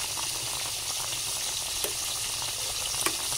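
Paksiw fish, carp cooked in coconut milk with vinegar, simmers and sizzles in a pan with a steady, even bubbling hiss and a couple of faint ticks, with no voices.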